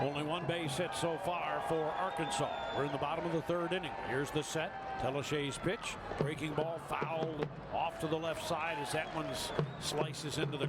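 A drum beaten on top of the Drillers dugout at a minor-league baseball game, heard as repeated dull thumps in the crowd background, faint and steady beneath continuous play-by-play commentary.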